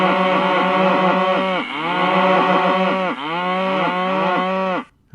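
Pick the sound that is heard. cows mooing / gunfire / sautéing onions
cows mooing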